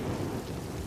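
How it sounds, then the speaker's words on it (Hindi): A short burst of heavy rain with a low thunder rumble, a dense and steady wash of noise that holds for under a second with no voices. "तभी बिजली चमकती है।"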